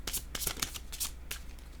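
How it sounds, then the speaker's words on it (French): Tarot cards riffled and shuffled in quick bursts of papery flutter and snapping, several short clustered rustles close by with no talking. "Je vais choisir une autre carte."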